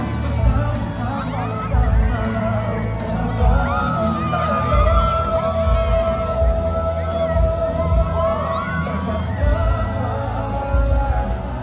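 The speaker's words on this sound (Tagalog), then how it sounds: "isang masigabong palakpakan na may kasamang malakas na hiyawan" A crowd at a Philippine government service fair with the President and officials cheers and whoops loudly over a dense, sustained roar of voices and applause, with shouts rising throughout.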